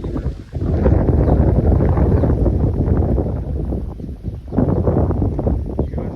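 Strong wind buffets the microphone in loud, roaring gusts, nearly continuous, with a brief lull before it surges again.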